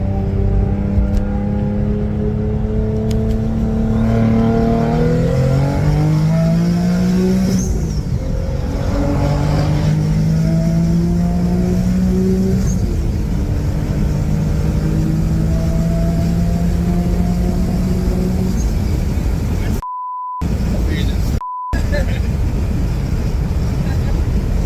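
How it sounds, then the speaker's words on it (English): Twin-turbo Infiniti G37 accelerating hard, engine tone climbing through gears with turbo whine, loud and close from inside the car, a voice briefly over it and a couple of short dropouts near the end. "Oh yeah, the turbo noise."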